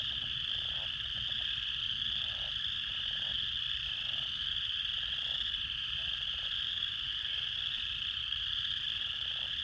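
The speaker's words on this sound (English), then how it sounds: "Listen to them frogs." Frogs croak in a dense chorus near a pasture and hayfield in early spring: a steady high trill underneath, with short pulsed croaks repeating every half second or so, and no voices.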